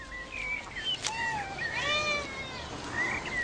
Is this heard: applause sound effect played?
no